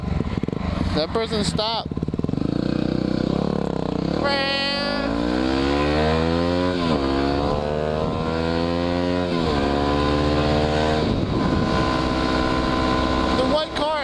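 A motorcycle engine on the road rises and falls through the gears in a long, loud, sweeping drone that stays close throughout, with wind noise and a rider talking briefly.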